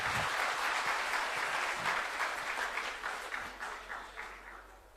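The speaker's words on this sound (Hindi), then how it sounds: "तालियां तो बजा दीजिए।" A crowd at a Chhattisgarh government anniversary event with Chief Minister Bhupesh Baghel claps loudly and densely, the applause holding for a few seconds before gradually thinning and fading away.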